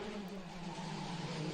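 Formula 3 race cars at the Macau Circuit climbing the hill toward San Francisco bend, engines droning steadily in a sustained whine at moderate distance, running single file without any voices.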